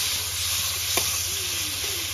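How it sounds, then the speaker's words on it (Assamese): Local chicken meat sizzling and frying in a hot pan, a steady continuous hiss with a brief stirring scrape, close and alone without voices. "মাংসখিনি এনেকৈ অলপ সময় ভাজি লওঁ"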